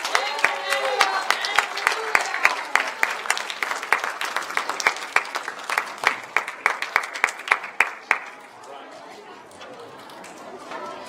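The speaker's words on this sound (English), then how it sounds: "Can we give a huge round of applause for our new teachers?" At a lower school assembly, the audience applauds new teachers with lively clapping and excited chatter, several sharp claps standing out near the mic, before it fades to quieter voices for the last few seconds.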